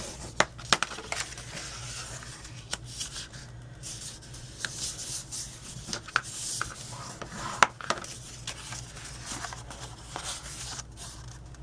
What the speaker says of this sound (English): And I'm going to fold up my score lines.